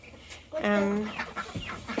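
Chickens clucking and squawking close by in the morning, with one drawn-out cackle rising above a busy farmyard murmur that includes ducks.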